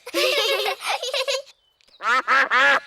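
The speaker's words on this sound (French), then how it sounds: "Oh, ce sont les canards." Several cartoon ducks in Peppa Pig quacking loudly and close, two bursts of raspy quacks separated by a short pause.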